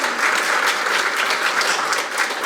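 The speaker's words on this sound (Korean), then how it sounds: "큰 박수 부탁드리겠습니다" Continuous applause from a group of people, a steady wash of many hands clapping without break.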